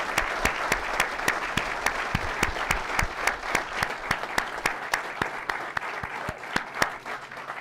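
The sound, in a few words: audience applause at police swear-in ceremony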